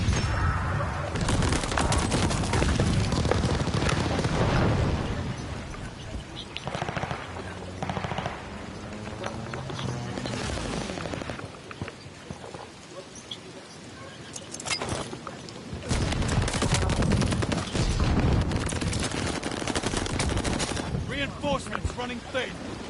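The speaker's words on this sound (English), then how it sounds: "Hostile strafe inbound!" Strafing gunfire from an attack aircraft in the Call of Duty: Vanguard multiplayer game, loud sustained bursts of rapid fire with dense battle noise and a brief lull midway before the firing resumes.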